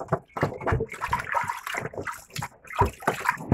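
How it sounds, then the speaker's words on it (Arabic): Meat being washed in water with tahini in a basin, close sloshing and splashing in quick irregular bursts, loud and continuous for a few seconds with no talking. "نغسلها كويس قوي بقى كده بيها"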